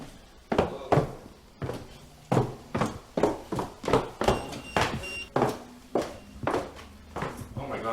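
Steady footsteps walking down hard stairs in a house, roughly a dozen firm thuds in an even rhythm, close by, with no talking.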